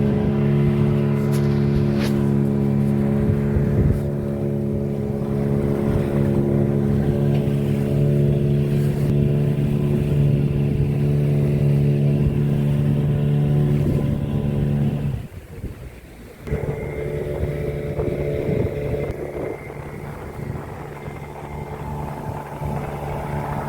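Motorboat engine heard from aboard a dive boat on the way to a scuba dive, a loud, steady droning roar with harmonic whine, briefly dipping midway before resuming at a slightly different pitch.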